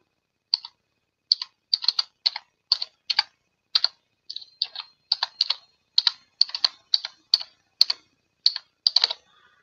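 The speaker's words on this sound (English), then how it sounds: "Quickly type this in before." Rapid bursts of keystrokes on a computer keyboard while an email is typed, irregular clusters of close, crisp clicks with short pauses between, no talking.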